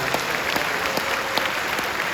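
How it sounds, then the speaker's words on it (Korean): A church congregation at a large worship gathering applauds in a dense, steady wash of many hands clapping, with a few sharper individual claps standing out. "옆에 계신 분들 박수로 한번 축복합시다."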